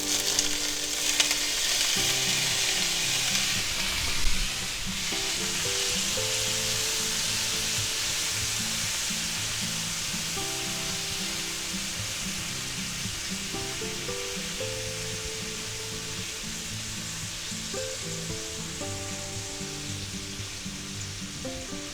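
Shrimp fry in hot oil in a pan for chow mein, a loud, continuous close sizzle that eases slightly over time, with a short clatter near the start and soft music underneath.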